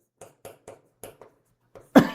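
A single sharp cough bursts out loudly and close at the end, after a stretch of faint, spaced clicks and quiet sounds during a high school math lesson.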